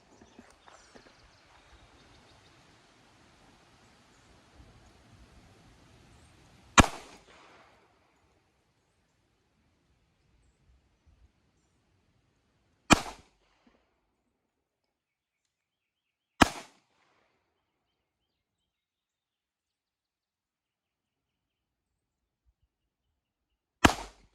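Shots from a Kimber CDP 1911 pistol with an early aluminum frame, fired at a shooting range, ring out as four sharp, loud reports spaced several seconds apart, after some faint rustling and handling noise at the start.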